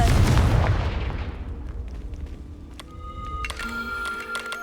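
A Confringo blasting spell goes off in Hogwarts Legacy, opening with a loud boom that fades into a rumbling tail, then faint chiming magical tones.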